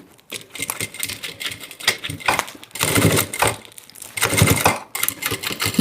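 A sewing machine stitching the lining of a thermal bag: close, loud rattling runs of rapid stitching in several bursts with short pauses between them.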